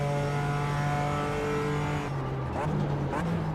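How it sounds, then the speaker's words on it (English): BMW race car in the iRacing simulator, its engine holding a steady buzzing note that drops through successive downshifts, loud and continuous with a brief tire squeal and a voice talking over it. "Downshifting all the way here."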